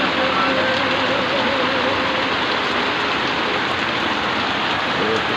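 Steady, heavy rain pours down with a dense continuous hiss, loud and close, without a break.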